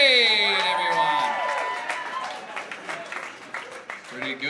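An audience at a comedy prom debate applauds and cheers, a dense wash of clapping that fades gradually over a few seconds while a musical sting rings out at the start.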